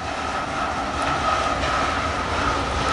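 A freight train hauled by CSX and Santa Fe locomotives rumbles steadily past on the Puget Sound line, a continuous loud roll of wagons with faint metallic wheel squeal and clatter.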